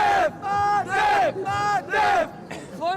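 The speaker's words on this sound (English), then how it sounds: "you can hear the French crowd building up energy" A French crowd at a table tennis match chants and cheers in loud, rhythmic surges, four or five swelling shouts in a regular beat, close and filling the hall.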